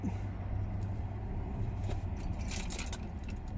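A brief metallic jingle of keys being handled, over a low engine rumble from a vehicle.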